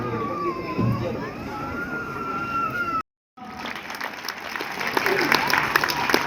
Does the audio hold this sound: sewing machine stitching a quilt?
no